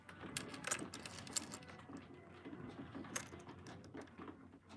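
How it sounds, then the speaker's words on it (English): Heavy rain falls outside, giving a faint, continuous soft patter with scattered sharper ticks and taps, with no talk over it. "My gosh, listen to that rain."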